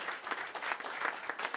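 Steady applause from an audience at an SME Star Awards business ceremony in 2018, dense overlapping clapping sustained evenly throughout, moderately loud and close.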